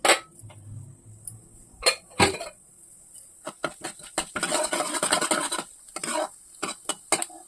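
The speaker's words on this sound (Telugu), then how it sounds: "రెండు టేబుల్ స్పూన్ ఆయిల్ అయితే వేసాను తర్వాత అయితే పోపులు వేస్తున్నాను" Spices tempering in two tablespoons of hot oil in a pan on a stove, crackling and sizzling in bursts with scattered sharp pops and clinks of a utensil against the pan, close and fairly loud, with no talking.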